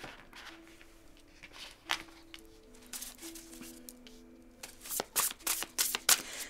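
Tarot cards shuffled for a reading, close, soft papery riffles and slides that build into quicker, louder bursts of shuffling toward the end over a faint background hum.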